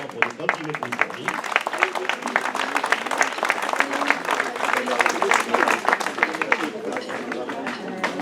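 An audience at a sports awards event applauds the women honourees with lively, sustained clapping and scattered individual claps, mixed with crowd chatter and babble.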